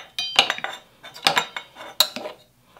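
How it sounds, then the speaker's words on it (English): A spoon stirs and fluffs cooked quinoa in meal-prep containers, giving a few sharp clinks and scrapes against the containers in an irregular rhythm, close and moderately loud with no talking. "All right, just give it a stir."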